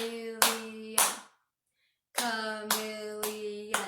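Hands clap out the syllables of a word at a children's storytime: two sharp claps, a short silence, then four evenly spaced claps, each ringing over a sustained chanting voice.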